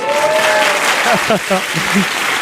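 Studio audience applause for an elderly guest on a live French talk show broadcast from Nantes, a loud, dense wash of clapping with voices talking over it.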